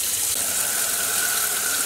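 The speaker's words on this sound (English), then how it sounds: "I'm gonna squeeze out water from this right now. So I know water will bleed out as I am doing this." Water is wrung out of wet cotton yarn overdyed with Rit liquid dye, producing a steady, close splashing gush of liquid pouring into a basin, continuous and moderately loud with no voices over it.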